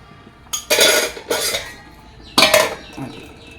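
A metal lid set onto a pan cooking a coconut and jaggery roti over low heat, giving three short clattering clanks with brief ringing, close and fairly loud against near silence.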